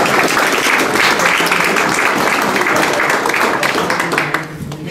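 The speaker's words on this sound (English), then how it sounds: "Applause." Loud, dense applause from an audience welcoming presenters at a bowling coaching session, sustained clapping throughout with no speech, fading slightly at the end.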